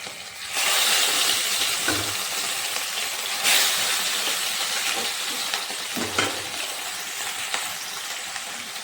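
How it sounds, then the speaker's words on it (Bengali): Fish pieces frying in hot oil in a wok for a Bengali potato and cauliflower fish curry, a steady loud sizzle with bursts as pieces go in, close up and without talk. "আমি এখন মাছ দিয়ে দিচ্ছি একটা একটা করে"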